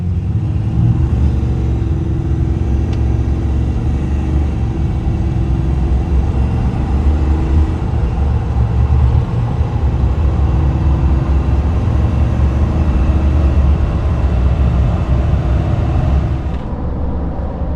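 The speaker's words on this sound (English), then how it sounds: "Let's see how it shoots to 60 miles an hour with these big 37's." A 2024 RAM Cummins diesel pickup on 37-inch tires with a 5-inch lift accelerates hard to 60 mph, a loud, steady low engine drone heard from inside the cab for the whole stretch before easing off at the end.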